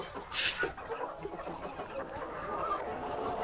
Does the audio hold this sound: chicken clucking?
yes